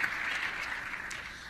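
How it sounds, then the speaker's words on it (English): Audience applause for the panelists closing a youth session at a climate conference, a steady, fairly soft patter of clapping sustained from start to finish with no voices over it. "I'd like to give a final round of applause to the panelists."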